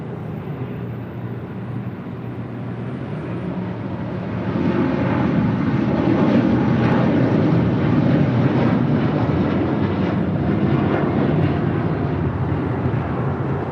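A Boeing 787 Dreamliner rolls down the runway at LAX with a loud, steady jet engine roar that swells noticeably partway through and then holds strong and broad to the end, with no talking.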